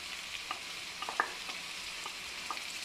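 Chicken karahi with yogurt being stirred in a pan makes a quiet, even sizzle, with light spoon taps and clicks against the pan at irregular moments.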